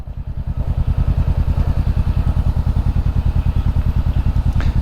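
A motorcycle engine chugs in a close, steady rapid pulse, loud and even throughout, with wind buffeting the microphone and no talking.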